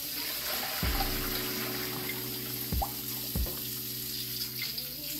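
Kitchen tap water splashing into a sink of salt water where chicken is soaking, a steady running stream with a few louder gushes and sloshes near the close.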